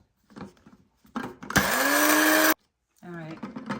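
Blender pulverizing parasite cleanse ingredients in one loud, steady whir of about a second, with a person talking before and after the burst.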